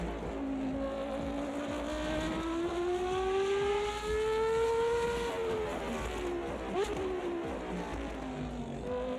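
A loud race car engine in the Automobilista 2 racing game revs up steadily, pitch climbing through a long pull, then drops back with a shift and keeps droning at high rpm.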